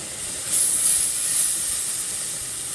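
Milk simmers in a roux in a skillet, making a steady, loud hiss and sizzle that swells briefly and then holds even throughout.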